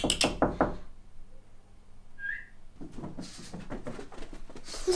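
Several quick raps knock on a door at the start, followed by a brief whistle and then excited dog sounds and movement in a home.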